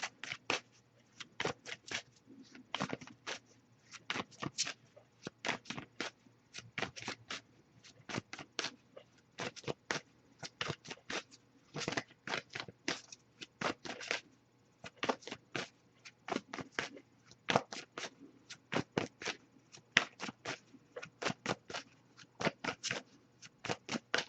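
Rapid riffle shuffles of a card deck, crisp flapping bursts repeating steadily throughout, close up with no talking.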